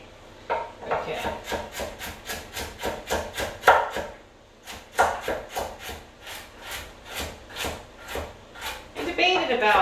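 Steady rhythmic knife chopping on a wooden cutting board as vegetables are cut up for batch-cooked chili, close and crisp, with a brief pause partway through.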